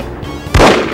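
A single sharp gunshot from the video game No One Lives Forever, loud and close, after a quiet moment.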